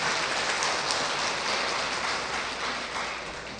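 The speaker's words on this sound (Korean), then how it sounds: "박수 한번 쳐드릴까요?" Applause from a church congregation welcoming visiting parishioners, a dense, steady wash of many hands clapping that carries on evenly throughout with no voices over it.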